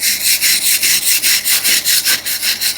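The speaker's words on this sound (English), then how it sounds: "we're trying to use the wire brush to maximize that rough look, get into those grooves" A wire brush is pushed hard by hand across grooved porch timber, giving a loud, rhythmic series of harsh scraping strokes, about a dozen back-and-forth passes in steady succession, close up with no talking.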